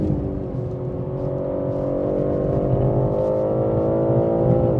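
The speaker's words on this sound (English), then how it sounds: "Balance the car on the throttle through here." BMW M3 Touring engine held on the throttle through a corner on a race circuit, a loud steady drone with slowly rising pitch, continuous and close throughout.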